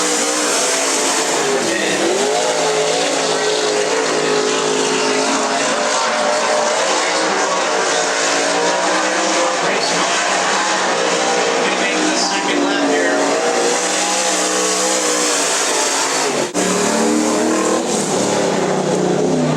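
Modified race cars at the Cottage Grove Speedway Modified Nationals roar around the track in a loud, sustained engine drone whose pitch rises and falls as they pass, with a voice speaking over the racket.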